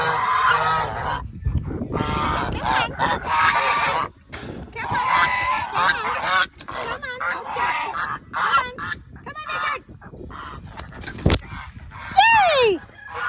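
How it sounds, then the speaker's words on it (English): Poultry-yard geese, just released from their pen, honk repeatedly in loud, overlapping bursts, close by, with some ducks mixed in and a person's voice now and then. "release your geese"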